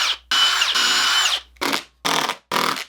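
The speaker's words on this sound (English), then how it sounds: "I'm also going to pre-drill each of these holes so I don't get any cracking" A power drill pre-drills holes in wood boards for a lawn mower project: one long whirring run followed by three short bursts, close and loud.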